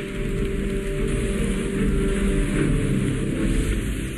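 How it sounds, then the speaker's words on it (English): Heavy rain from Typhoon Mekhala making landfall in Fujian, China, a dense, steady roar of downpour drumming on surfaces at close range with no break, with a low rumble beneath and no voices. "On August 11, 2020, Typhoon Mekhala made landfall in China's Fujian."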